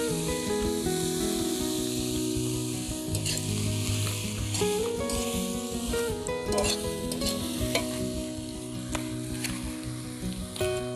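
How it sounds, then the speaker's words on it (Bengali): Banana flower fries and is stirred in a wok, making a continuous hissing sizzle with scraping stirs, heard under steady background music. "মোচাটা আমার ভাজা হয়ে গিয়েছে।"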